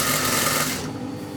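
A sewing machine runs steadily, stitching a seam along a curved piece of fabric with a continuous close, loud mechanical whir that eases slightly toward the end.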